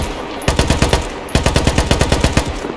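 Machine gun fire in the military shooter game ArmA: two loud, close bursts of rapid, evenly spaced shots with a short pause between them.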